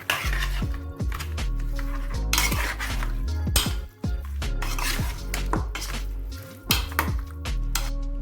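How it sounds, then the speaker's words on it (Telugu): Chicken fry ingredients being mixed in a bowl, with repeated clinking and scraping of a utensil against the bowl and soft wet squishing, close and continuous with no talking. "వీటిని అన్నిటిని మంచిగా మిక్స్ చేసుకోవాలి"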